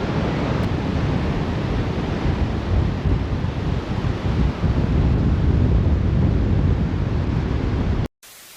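Surf and wind on a long beach in Da Nang, Vietnam, a loud continuous roar of breaking waves mixed with gusty wind buffeting the microphone, cutting off abruptly at the end.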